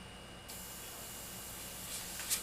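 Airbrush misting paint onto a custom-painted aviator skull design, a steady soft hiss running throughout alone, swelling slightly louder near the end.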